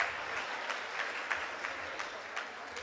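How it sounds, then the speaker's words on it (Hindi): Audience applause following a joke at a Hindi comedy show, steady and moderately loud, with dense clapping throughout and no speech over it. "तालियां बजा दीजिए एक बार।"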